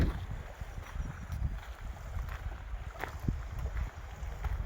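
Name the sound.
strong wind outdoors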